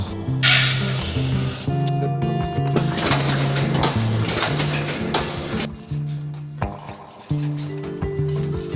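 An automatic seed packet machine that fills, folds and seals sachets runs at about fifty packets per minute, a loud steady mechanical whir with rhythmic clunks, hisses and repeating tonal hums, with no talk over it.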